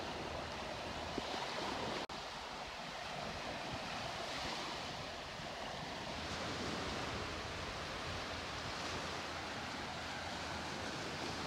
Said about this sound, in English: That's just a little sandbar out there where the waves always break here at the north end.